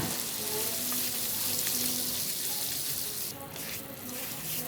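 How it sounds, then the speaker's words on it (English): Butter sizzles steadily on a hot stone in Sapa, northern Vietnam, a soft continuous crackling hiss with a faint background murmur. "they put on the hot stone a little bit of butter, they spread a little bit of butter first and make it sizzle"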